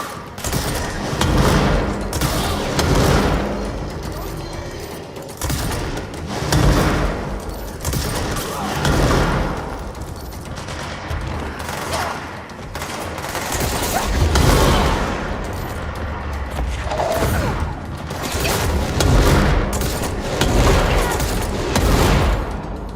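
Gunfire in the video game Control comes as dense, loud bursts of shooting and booms, repeating in waves throughout with no pause.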